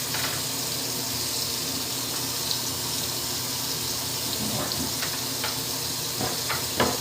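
Running water rinses a dog during a bath, a steady, close hiss of spray and splashing that continues throughout, with a few faint knocks near the end and no talking.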